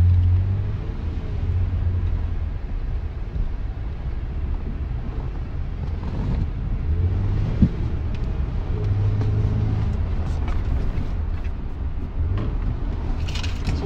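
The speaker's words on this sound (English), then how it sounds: "Gonna go for a little quick stroll. The car's smooth as shit already." A Lexus car's low engine and road rumble hold steady throughout while driving, with a faint whoosh of wind over the microphone and occasional small knocks.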